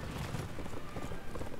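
Rapid clip-clop of hooves from several horses galloping in the video game Lego The Lord of the Rings, dense and continuous, with a busy background and no talking.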